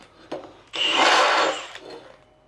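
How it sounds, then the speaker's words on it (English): Deburr tool rasping along a cut metal edge on a Comanche slider or bumper, a single close scraping stroke of about a second, framed by a couple of fainter short rubs. "I got a deburr tool. Kind of just smooths it out"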